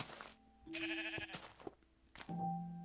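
Sheep in Minecraft PE bleat in a couple of short, wavering calls, close and clear, with a quiet gap between them and no voices.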